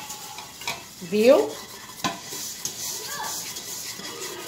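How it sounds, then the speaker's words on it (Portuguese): Sugar, salt and baking soda being stirred by hand into a gel for a homemade aluminium cleaner, a soft scraping swirl with a brief clink of utensil against the container, close by with light speech. "Vou colocar o açúcar no gel. Vou colocar o sal e o bicarbonato. E vou mexer aqui"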